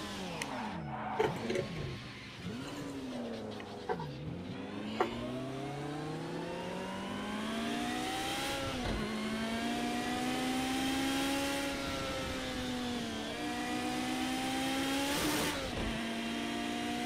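A Porsche race car in Project Cars 2 revs and accelerates, its engine tone climbing and dropping through gear shifts, loud and continuous across the whole stretch.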